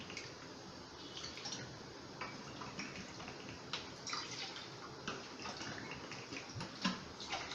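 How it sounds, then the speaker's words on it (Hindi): Water poured from a cup into a kadai pan sitting on a gas stove, heard as a faint, steady trickling splash with scattered small drips and taps. No one speaks. "इसी कप से मैं 3 कप पानी कढ़ाई में डालूंगी।"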